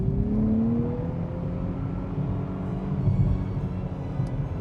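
A 2023 Nissan Z with a 400-horsepower 3-litre twin-turbo V6 accelerates hard, its engine note climbing steadily in a smooth rising whine and drone heard from inside the car, fairly loud and continuous with no talk.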